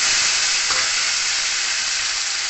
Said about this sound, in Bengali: তেল থেকে একটা সুন্দর গন্ধ বেরোলে এর মধ্যে আমি দিয়ে দিলাম টমেটো কুচি